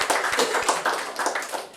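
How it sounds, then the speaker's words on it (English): A small audience at a charter school visit gives applause, a fairly quiet patter of clapping hands with a few sharper individual claps, fading slightly toward the end. "Let's give them all a round of applause and thank them for all their work."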